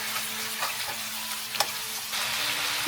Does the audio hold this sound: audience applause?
no